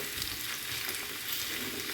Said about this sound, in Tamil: சட்டி வச்சு எண்ணெய் விட்டுட்டு வெங்காயம் போட்டிருக்கிறேன். பப்ரிக்கா நான் எல்லாத்தையும் உடனே போட்டு எல்லாத்தையும் சேர்த்து ஒன்றா வதக்க போகிறேன்.